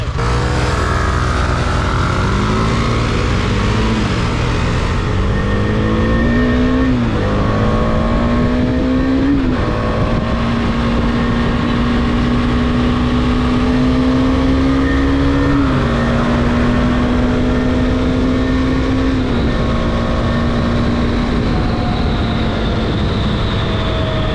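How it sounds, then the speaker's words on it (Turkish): A Husqvarna Svartpilen 250 motorcycle accelerates hard through the gears in a street drag run, its engine note rising and dropping with each shift over steady loud wind and road rumble for about twenty seconds. "bas bakayım bir drag yapalım"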